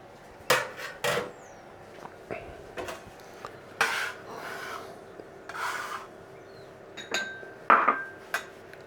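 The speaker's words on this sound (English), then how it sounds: "Okay, that's zest of a lemon." A lemon is scraped against a grater for zest in a quiet kitchen, giving a few short, soft rasping strokes with gaps between them and light clinks.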